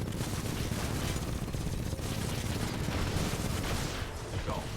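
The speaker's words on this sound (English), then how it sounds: "Use any extra bullets on Kane" Dense, continuous gunfire from a boss fight in the video game Titanfall 2 forms an unbroken wall of shots and explosions. A voice talks faintly beneath it.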